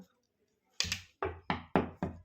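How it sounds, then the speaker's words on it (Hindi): Knocking on a painter's studio door: five firm, close raps after a short silence, the first two in quick succession and the rest evenly spaced, with no talking. "उस स्टूडियो का दरवाज़ा खटखटाया"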